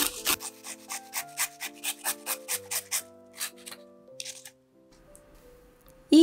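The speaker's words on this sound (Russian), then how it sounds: "Натираю огурец на мелкой терке." Cucumber grated on a fine grater: a rhythmic run of about a dozen close rasping strokes, evenly spaced, then slowing and fading into quiet before a brief louder noise at the end.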